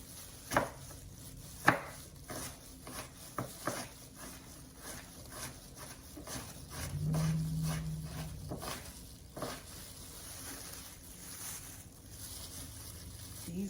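Apples being chopped with a knife on a cutting board ahead of juicing, a steady run of close, crisp knife thuds with a low windy hum underneath and no talk.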